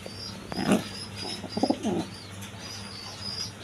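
Racer pigeons give a few short, close coos, with one louder burst near the start and a cluster of soft calls shortly after. No voices are present.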